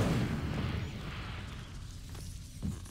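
The Incendio fire spell in Hogwarts Legacy erupts in a loud whooshing burst of flame that fades over a couple of seconds, followed by a softer thump near the end.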